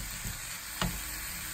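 Onion frying in a pan for a paratha roll: a steady, soft sizzle runs throughout, with a brief louder burst of stirring or scraping near the middle.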